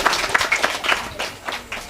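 An audience at a Yakshagana performance of Kamsa Vadhe applauds, with dense, uneven hand claps rising and falling over a couple of seconds.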